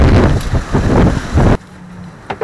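Sailboat heeling under sail at about five knots, with strong wind buffeting the microphone and water rushing past for a second and a half before dropping to a quieter hiss with a faint hull knock.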